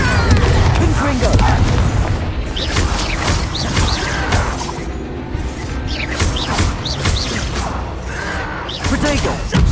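A Confringo fire spell bursts in a Hogwarts Legacy duel, a loud booming blast with whooshing magical effects over a dense, continuous battle din, with voices shouting throughout.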